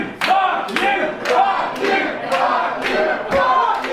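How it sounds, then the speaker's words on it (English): Ringside wrestling crowd chanting in loud rhythmic bursts close to the ring, several repeated shouts of many voices. "Some chants of USA in Canada"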